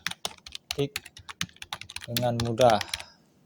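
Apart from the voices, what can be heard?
computer keyboard typing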